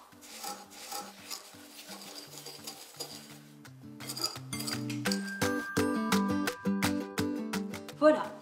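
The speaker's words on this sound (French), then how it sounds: "Pour commencer, on va mélanger le beurre et le sucre." Butter and sugar are mashed and stirred in a bowl, giving soft scraping and rubbing strokes with light clinks of utensil on the dish, heard under steady background music.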